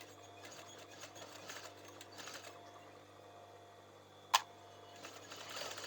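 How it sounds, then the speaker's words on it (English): A domestic sewing machine stitches a hem on a remade garment, a faint, steady mechanical whirr with soft ticking, and a single sharp click partway through. "And then I'm going to stitch, get a back tack there,"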